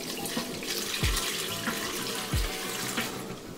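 Water pours steadily into a blender for albondigas broth, a continuous close splashing rush with a few low knocks and thuds along the way.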